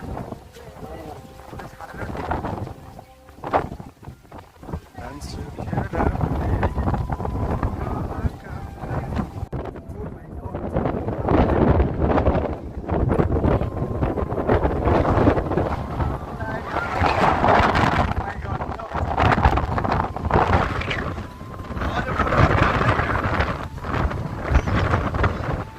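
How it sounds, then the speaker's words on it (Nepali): Strong wind gusting hard around Pokhara, roaring and buffeting the microphone in long, loud waves, with people talking over it throughout. "साँच्चै उडाउला जस्तो गर्छ क्या हावाले यार। हावाले उडाउला जस्तो गर्यो।"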